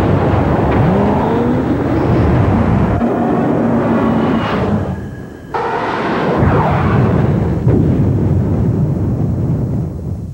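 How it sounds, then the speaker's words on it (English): A 32-valve, 280 horsepower Lincoln Mark VIII engine roars loud and close in a 1994 TV commercial, a sustained rushing drive with a brief dip midway before the powerful engine noise surges again. "he would have been born with a 32-valve, 280 horsepower Lincoln Mark 8"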